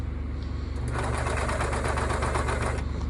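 A serger sewing machine stitching thin fabric, a fast even mechanical whir with rapid needle chatter that picks up after a brief slow start, moderately close and alone.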